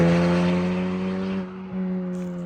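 A Honda Civic Type R FL5 fitted with a modified titanium exhaust at full throttle gives a loud, steady engine roar with strong harmonics that dips briefly and then resumes.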